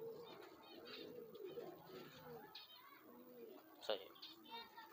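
A high flyer pigeon hen coos nearby in soft, repeated throaty phrases, with a brief sharper sound near the end, while someone talks quietly over it.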